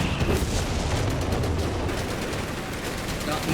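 Whizbang rocket artillery barrage in Company of Heroes 3, a dense, continuous rumble of rapid launches and impacts filling the whole stretch at steady loudness, with game battle noise layered underneath.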